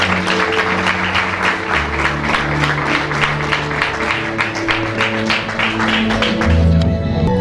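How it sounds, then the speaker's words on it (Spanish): A church congregation applauding steadily for several seconds, dense sustained clapping from a large indoor crowd, with organ or keyboard chords held underneath. "lo recibimos con un aplauso"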